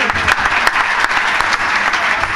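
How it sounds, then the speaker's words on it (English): Loud, close applause from the audience at a bhajan music festival, continuous dense clapping with no pauses, welcoming the harmonium and tabla players. "loud round of applause"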